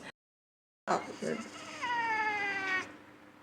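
A startled blind cat lets out a drawn-out, wavering meow close to the microphone after a brief silence and a soft rustle.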